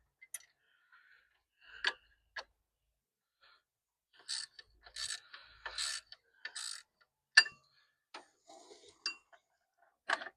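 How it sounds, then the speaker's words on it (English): Ratchet wrench working a bottom nut loose on a Jeep Cherokee during radiator work, heard as faint, scattered clicks and short bursts of metallic ratcheting with quiet gaps between them. "Get this bottom nut off here."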